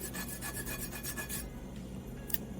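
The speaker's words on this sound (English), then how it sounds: "Actually, I might just take a file to it. Let's see, this is a pretty coarse file." A coarse file scraping a soft fabricated part, heard as a close run of rhythmic rasping strokes that then stops, followed by quieter scraping and one more brief stroke near the end.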